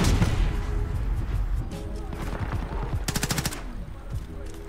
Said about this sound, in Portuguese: E toda hora ele tá dando dois tiros